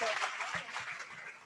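Applause from an audience at a women entrepreneurs' anniversary event, a fairly faint wash of clapping that fades across a second and a half, with voices mixed in underneath.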